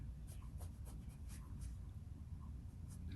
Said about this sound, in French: je vais la dessiner en plus gras